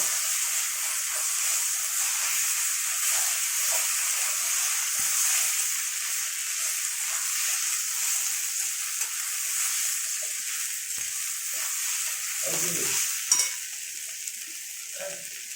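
Fish-head muri ghonto being stirred in a pan: a steady, moderate frying sizzle runs throughout, with a few soft spatula scrapes and clinks near the end.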